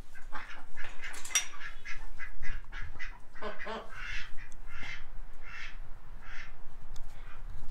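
Ducks quack in a run of close, repeated nasal calls at a steady pace, fairly loud over a low outdoor background.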